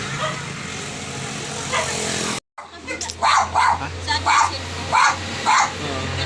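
Pet dog barking near a house, a run of sharp, loud, repeated barks following a stretch of background noise, with people talking at times.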